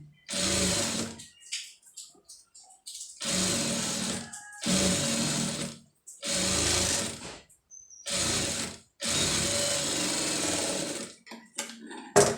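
Sewing machine stitching thread piping onto a garment sleeve, running in short repeated bursts of rapid whirring separated by quiet pauses, close and alone with no talking.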